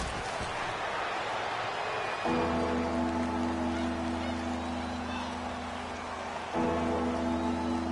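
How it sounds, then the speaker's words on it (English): Steady rain hiss fills the background of a PS4 American football video game played in wet weather, broad and continuous throughout, with a low droning tone and faint commentary-like sounds layered underneath. "Well, Charles, the forecast called for rain throughout the entire game, and we got rain throughout the entire game"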